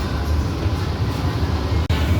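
Busy Dum Dum Junction railway station on the Sealdah division, a steady loud rumble of a train and station bustle throughout, with one brief dropout near the end.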